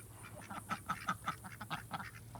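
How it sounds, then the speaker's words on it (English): Ducks quack in a steady run of repeated, moderately loud calls near a former turkey hen house turned horse stall on a small farm, with no talk over them. "So we're here watching the ducks, and then Rosie comes"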